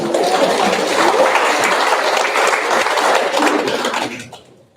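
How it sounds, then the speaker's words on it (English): Audience applause at a funeral service, a dense steady clapping that holds for about four seconds and then fades out quickly at the end, with no talking over it. "Give those girls a round of applause."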